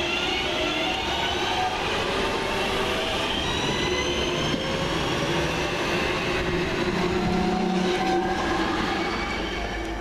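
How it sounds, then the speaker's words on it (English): A Class 323 London Midland passenger electric train passes close by, a loud continuous rumble of wheels on rails with squealing tones and rhythmic clatter throughout. "Here goes my train, 323-204 with the 12:31 to Four Oaks from Redditch."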